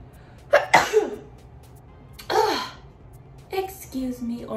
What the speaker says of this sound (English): I think I need to sneeze.